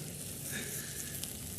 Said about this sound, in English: we're going to give it a good sear on both sides